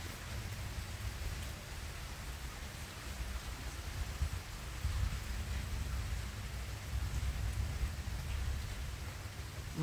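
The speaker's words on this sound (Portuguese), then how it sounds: "Muita chuva em Campo Grande" Heavy afternoon rain pours steadily in Campo Grande, Rio Grande do Norte, a dense, unbroken roar that holds at an even level for the whole stretch with no voices.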